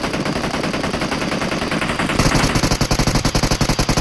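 Automatic gunfire in the PUBG video game: a steady background of shots, then a loud, close burst of rapid, evenly spaced rounds firing in quick succession to the end.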